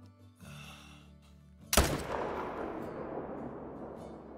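A single loud rifle shot booms out at a grizzly bear in a hunting video game, after a quiet stretch with a low hum, then rolls away in a long fading echo.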